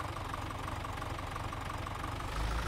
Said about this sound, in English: So we'll just start the tractor.